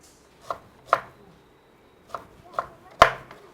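Brinjal (eggplant) being cut with a knife for sun-dried vathal: five separate sharp chops on a board, irregularly spaced, close and fairly loud with quiet gaps between them and no voices.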